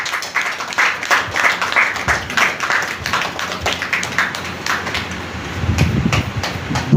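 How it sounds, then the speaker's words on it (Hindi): A crowd claps steadily throughout, dense overlapping hand claps forming sustained applause, with no voices over it. "इनका जोरदार तालियां से सम्मान किया जाए।"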